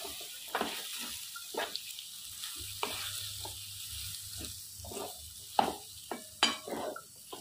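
A spoon stirs chili powder into potato and mango curry in a pan, giving intermittent scraping strokes over a soft, quiet sizzle with a faint low hum.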